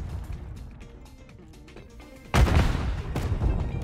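Grenade detonation in Modern Warfare 3 gameplay: quiet background clatter gives way to a sudden loud boom with sustained crackling, rumbling aftermath and further sharp bursts.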